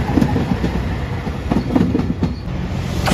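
A red Anpanman-liveried diesel limited express train on a Shikoku line rolls past close by, its wheels beating a steady clickety-clack over rail joints with a rumbling undertone and faint wheel squeal.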